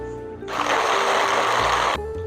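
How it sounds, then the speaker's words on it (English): A blender whirs through soaked cashews and about a cup of water for a vegan cream, a loud, steady grinding roar that starts suddenly and cuts off after about a second and a half. "And then hit them with a blitzer."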